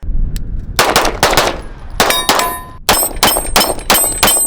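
A Staccato C2 pistol fitted with a compensator fires about a dozen sharp, loud shots outdoors, in quick clusters with short pauses between strings, each report ringing with a metallic edge.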